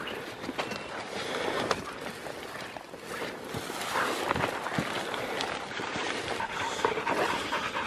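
A hunting dog pants heavily and runs across rough ground during a New Zealand pig hunt, its quick breaths close and steady against a wash of wind and outdoor noise.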